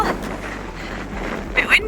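Steady wind roars and buffets the microphone on open fell during a summer mountain race, with low rumbling gusts and a brief louder burst near the end.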